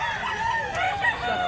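Roosters at a chicken market in Cebu give overlapping crows, several birds calling at moderate distance amid a steady murmur of market noise.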